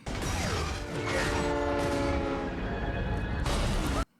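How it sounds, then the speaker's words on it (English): A train passing in a scene from The Mandalorian, a loud sustained rumble of rail cars with a blaring horn tone running through it. The sound cuts off abruptly at the end. "Oh, of course there's a train."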